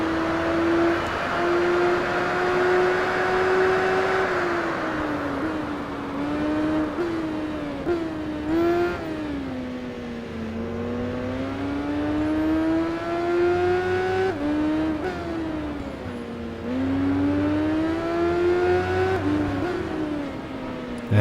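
Racing motorcycle engines from the Tourist Trophy game, a Ducati and an MV Agusta, whine steadily and loudly throughout, rising and falling in pitch with gear changes and revs, continuous with no talk.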